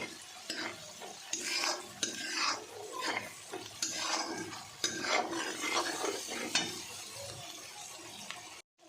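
Chili powder and vegetables are stirred into hot oil for bhogichi bhaji. A spoon scrapes and clatters against the pan in repeated strokes over a soft, continuous sizzle, with no talking.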